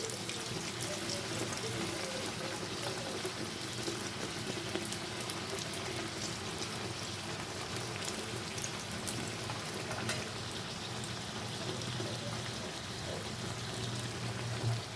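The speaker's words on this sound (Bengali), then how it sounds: "আমি এক আপনাদেরকে আরেকটা পুরি ভাজিয়ে ভেজে দেখাচ্ছি" Constant crackling and sizzling of sattu-stuffed puris deep frying in hot oil, an even hiss with tiny pops throughout.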